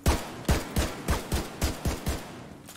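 Rapid gunfire in The Division 2, a rhythmic burst of about nine loud, evenly spaced shots over under three seconds, with no talking.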